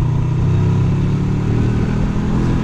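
A road vehicle's engine drones loud and close from inside as it speeds up, a continuous low rumble with steady road noise and no talk.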